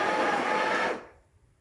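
Breville Barista Express BES870 grinder running at close range, a steady loud burr whir for about a second that spins down and fades into low background hum.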